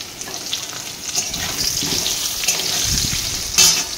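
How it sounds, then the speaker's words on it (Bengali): Potatoes frying in a pan of oil, a steady close sizzle with occasional stirring scrapes and a brief louder hiss near the end, no talk. "আর এইদিকে দেখো আমি আলু ভাজছি।"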